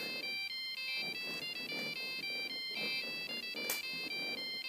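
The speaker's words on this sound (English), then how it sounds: "I actually thought it was pretty catchy with the sound of the satellite phone ringing." A satellite phone ringtone from the Jurassic Park films trills in a steady electronic pattern of repeated high beeping rings, loud and unbroken over the whole stretch with no voices.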